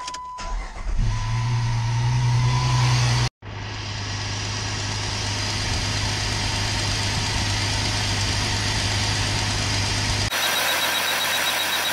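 A car engine cranks and fires, surges briefly, then settles into a steady mid-pitched idle. After a momentary cutout it runs on with a constant hum and faint vibration, close and clear with no talk.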